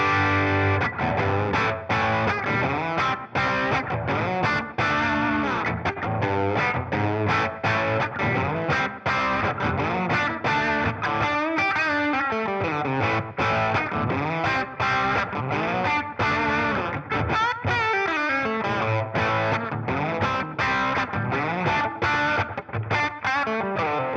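Distorted electric guitar rhythm tone played through a tour pedalboard, a dense, loud, continuous chugging of chords with steady strumming and effects colouring throughout, no talking.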